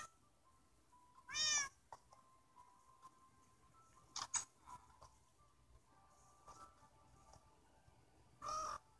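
A cat meows in Minecraft, three separate harmonic calls spaced across the stretch, each short and clear against a quiet game background with faint ambient tones between.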